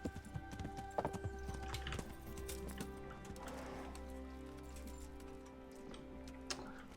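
A horse's hooves clip-clop in a steady trotting rhythm in the medieval game Kingdom Come: Deliverance, close and moderately loud over a low ambient bed, with an occasional snort or whinny.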